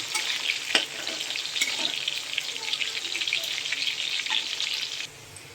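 Soaked cashews and raisins frying in a little oil, a close, steady sizzle broken by light clicks of stirring, which drops away abruptly near the end.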